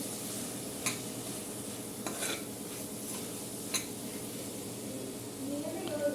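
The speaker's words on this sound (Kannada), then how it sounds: "ಇನ್ನೊಂದು ಸಲ ಇದನ್ನು ಚೆನ್ನಾಗಿ ಬಾಡಿಸ್ಕೊಂಡು" A spoon stirs and scrapes a rice bath mixture with garam masala in a hot pan, giving a few sharp clinks over a soft, steady sizzle while someone speaks.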